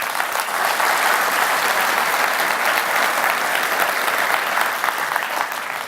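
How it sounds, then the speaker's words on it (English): A conference audience at a healthcare AI panel discussion applauds to welcome the panel, a dense, steady round of clapping that stays loud and even from start to finish. "And I would like to welcome them with a big round of applause."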